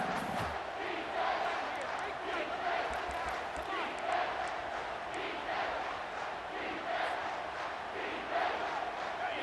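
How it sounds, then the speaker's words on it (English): A stadium crowd in EA Sports College Football 25 roars steadily on third down in a Big 12 Championship game, a dense, continuous wall of cheering and yelling with no commentary over it. "3rd down and the crowd really getting into it."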